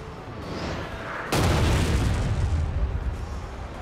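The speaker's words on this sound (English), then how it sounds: "Let's see if he does it again with this cannon." Civil War cannon firing canister shot during a multiplayer battle at Cold Harbor, heard as one sudden heavy boom that rolls on into a long rumbling decay over a steady background of ambient battle noise.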